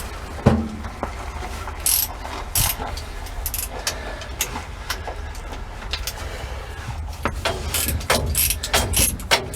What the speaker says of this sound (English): these bolts aren't very tight, so just crack them loose.